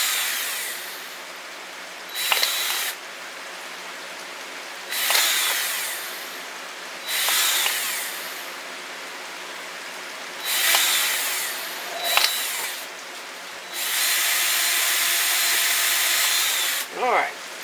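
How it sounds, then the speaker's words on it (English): A power drill bores holes in plastic bottles in repeated short bursts, about seven whirring runs of a few seconds each separated by quieter pauses, the last one long and sustained. "Drill the holes for this one."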